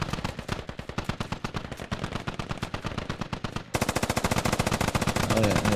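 A DShK heavy machine gun fires in the military shooter game Squad, pounding out long, rapid, unbroken bursts of gunfire that grow louder and closer in the second half.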